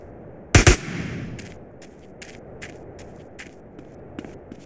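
Two sharp gunshots crack close together in GTA San Andreas, loud and near, followed by fainter scattered pops and taps trailing off in the background.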